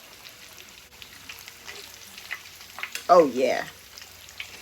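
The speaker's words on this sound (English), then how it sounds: "we're gonna let the pickles fry until they're golden brown" Battered pickles deep-fry in oil with a quiet, steady sizzle, close but faint, and a voice cuts in briefly near the end.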